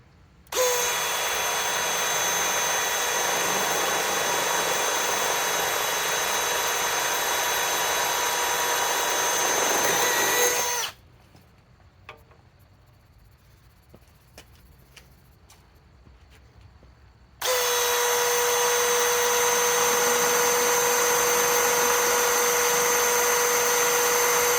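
A Milwaukee M12 Fuel third-generation impact driver with a 5 amp XC battery drives a step bit through roughly 1/8-inch steel. It whines loudly and steadily for about ten seconds, stops briefly, then runs again at full, close volume.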